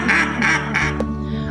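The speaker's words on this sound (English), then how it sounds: "I make duck calls." A handmade duck call quacks three times in quick succession, loud and close, followed by a short fading tail.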